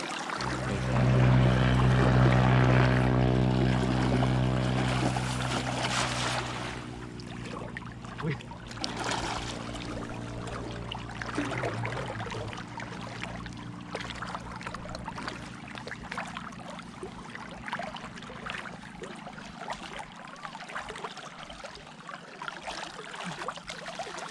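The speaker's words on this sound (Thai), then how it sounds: "เสียงน้ำไหลจกจก" Water runs and trickles steadily outdoors, a continuous soft flow that sits under a louder engine-like hum for the first few seconds, then carries on alone.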